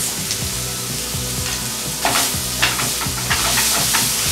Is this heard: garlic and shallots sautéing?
yes